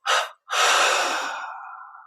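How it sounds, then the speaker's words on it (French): Deep breathing during guided meditation: a short inhale-like puff, a pause, then one long, full exhalation that slowly fades, close and alone. "expirant 3 fois."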